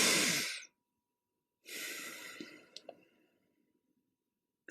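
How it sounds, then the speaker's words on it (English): A guided breathing exercise: a breathy double inhale close to the mic, a pause, then a long, soft exhalation trailing off with small mouth clicks, followed by quiet and another breath starting. "You might try the double inhale, followed by a long exhalation."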